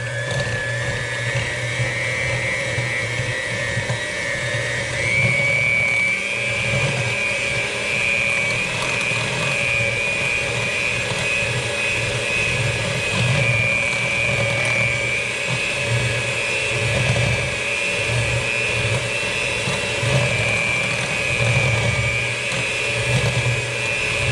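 An electric mixer beating cream cheese cookie dough with vanilla extract and granulated sugar, a steady high whine that runs unbroken and close for the whole stretch, its pitch stepping up slightly partway through, with no talk.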